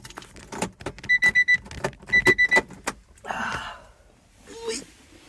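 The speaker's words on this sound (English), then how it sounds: "Let me take the key out the car without breaking my back." Car key pulled from the ignition of a Honda NSX, giving a few quick metallic jingles and clicks close by, with a rhythmic electronic chime pulsing alongside and some movement noise and a brief breath afterward.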